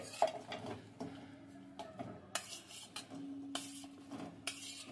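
Chopped onions are tipped into a bowl while preparing onion bhaji: faint, scattered clinks and knocks of a bowl and utensils, with a few louder taps spaced across a quiet kitchen.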